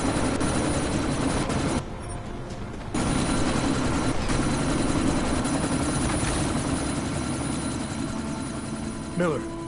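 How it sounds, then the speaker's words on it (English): A helicopter in a PS4 video game during a sandstorm mission, its loud continuous rotor and engine drone filling the scene, briefly cutting out for a second. "you need to disable that chopper"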